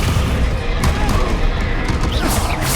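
A Confringo spell explosion in the video game Hogwarts Legacy: a dense, close burst of booms and crashing impacts packed into a few seconds, with a faint voice underneath.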